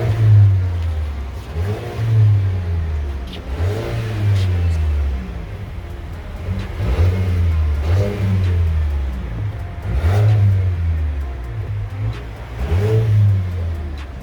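The idling engine of a 2021 Mercedes CLA45S AMG with twin exhausts is revved again and again in a steady rhythm, each low roar swelling and dropping back, heard from nearby.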